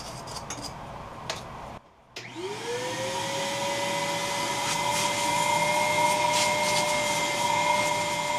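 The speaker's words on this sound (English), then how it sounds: "I went over it thoroughly with a vacuum cleaner." Vacuum cleaner switching on after a brief pause and spinning up to a steady, loud whine while going over a rough wooden twig pot, with faint ticking clatter as it runs.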